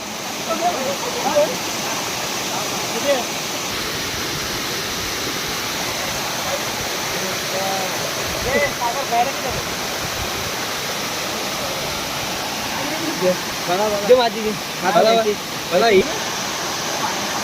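Water rushes from a village waterfall into a river, a steady broadband roar that fills the whole stretch without a break, with faint voices now and then beneath it.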